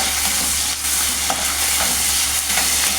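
Onion with ginger-garlic paste sizzles and fries in a pan for mutton keema, a close, steady crackling hiss with a few stirring scrapes and no talking.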